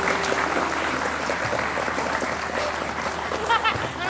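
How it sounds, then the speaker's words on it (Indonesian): Studio audience applauding on an Indonesian TV talk show, a steady dense wash of clapping throughout with some voices and a brief whistle-like sound near the end. "Tepuk tangan buat ini asli makan."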